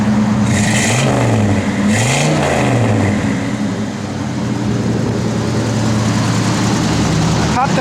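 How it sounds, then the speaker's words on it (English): A 1969 Chevrolet Chevelle SS V8 rumbles nearby, its engine rising and falling through a couple of rev swells over a steady idle, loud and continuous, with people talking over it. "Give it a rev."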